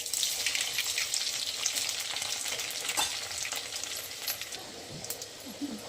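Cumin seeds crackle and sizzle in hot oil, a busy close popping spatter with light spoon scrapes and stirring throughout.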